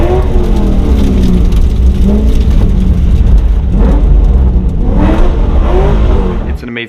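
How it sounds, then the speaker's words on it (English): A naturally aspirated 4-liter V8 in a BMW M3 with a 6-speed manual revs loudly up and down through its exhaust in repeated rising sweeps, close and continuous, with some talk mixed in. "The engine, 4-liter V8 naturally aspirated, 6-speed manual with the exhaust."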